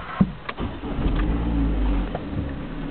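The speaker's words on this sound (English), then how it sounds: "I can now start the engine again." Engine of a 2010 Vauxhall Astra cranking and catching, with a short starter burst and then a steady low idle rumble nearby, no voices.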